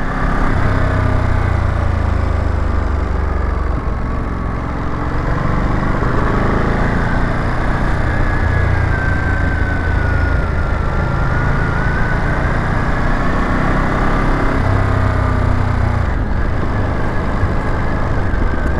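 A 2021 Ducati Monster motorcycle engine in sport mode runs with a steady, throaty low drone, close and loud, holding a constant roar with slight rises in pitch and no speech over it.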